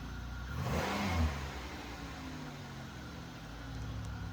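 A Monte Carlo SS car's 3800 V6 engine revs up briefly then settles into a steady idle hum, heard from close by.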